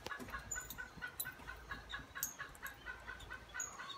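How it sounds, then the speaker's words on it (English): Egg-laying chickens on a small Hawaii farm cluck softly in a steady, chattering rhythm, with a few sharper bird calls popping out now and then. "Chickens laying eggs in the background."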